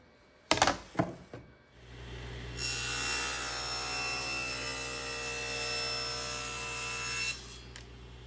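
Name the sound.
saw trimming a piece of wood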